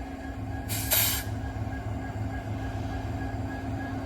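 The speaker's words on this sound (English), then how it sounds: "The SD60 locomotive, by the way, folks." CN SD60 diesel locomotive switching freight cars, including center beam flatcars, at Pembine: a steady low engine rumble with a brief hiss of air near the start, heard from a short distance.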